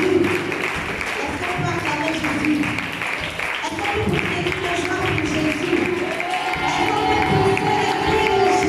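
A church congregation cheers and acclaims Jesus together, a loud sustained crowd roar of mixed shouting voices with some clapping, continuing without pause.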